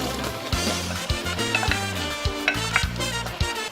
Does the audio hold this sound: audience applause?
no